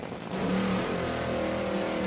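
A nitro-fuelled drag racing car at a St Louis event does a burnout, with a loud, sustained engine roar and tire spin that stays steady after a quick rise in the first moments.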